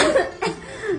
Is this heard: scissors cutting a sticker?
no